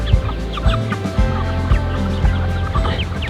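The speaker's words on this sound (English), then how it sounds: "14 Icelandic chickens following behind the cows." A flock of Icelandic chickens trailing cows across a manured pasture clucks steadily and loudly, with overlapping calls in an irregular, busy rhythm close by.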